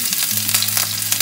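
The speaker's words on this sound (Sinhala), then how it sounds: "අයින් කරගත්තට පස්සේ මේ තෙල් ටිකටම ඉඟුරු සුදු ලුණු ටික දාලා ඒකත් හොඳට බැද ගන්න." Ginger and garlic fry in hot oil left from frying chicken, giving a close, dense, continuous sizzle with faint crackles throughout.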